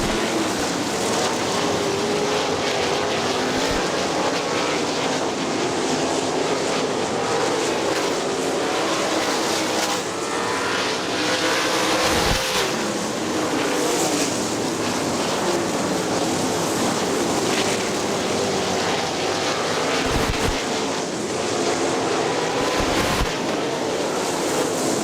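Outlaw super sprint cars race around the Butler Battlegrounds track in 2002, a loud, unbroken roar that washes over the whole stretch with no pauses and no voices.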